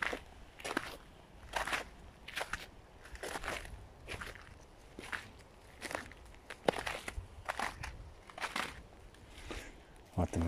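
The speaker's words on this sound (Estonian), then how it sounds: "Mulle väga meeldivad need prõksuv jää. Äge hääl käib, kui astud" Steady crunching footsteps on brittle ice in a forest, about one step every second, close by and fairly loud, each step a sharp crackling crunch.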